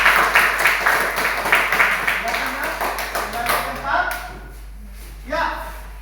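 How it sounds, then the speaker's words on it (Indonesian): Classroom applause as students clap their hands together in a quick, dense burst that thins out and fades after about four seconds, with a brief extra clap near the end. "Berikan tepuk tangan."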